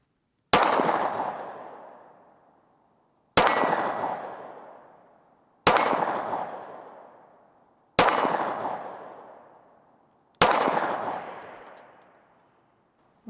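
Five single gunshots spaced a couple of seconds apart, each a sharp crack that rings out with a long metallic decay, as from steel targets being struck.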